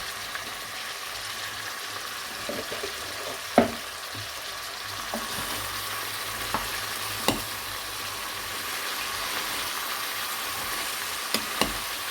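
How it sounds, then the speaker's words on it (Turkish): Washed spinach cooks and is stirred in a pan: a steady broadband sizzle runs throughout, broken by a few sharp scrapes and knocks of a spoon against the pan, with no talking. "Şimdi yıkadığım ıspanaklarımın hepsini ekleyeceğim."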